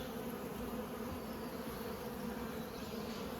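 A continuous, faint hum of honey bees swarming over an opened nucleus hive during transfer of frames into a nine-frame super at Coramba, steady throughout without pauses.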